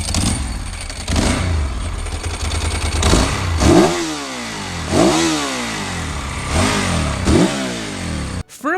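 A Ducati 916 sport motorcycle revs hard and loud several times, each throttle blip rising and falling in a sweeping engine note, with no voices.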